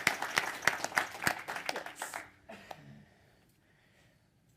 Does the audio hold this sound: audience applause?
yes